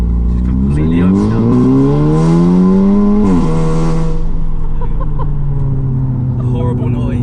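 An Audi S3 Saloon with a loud, raspy aftermarket exhaust revs hard. The pitch climbs steadily for a few seconds, then drops back to a rough, droning idle, close and very loud throughout.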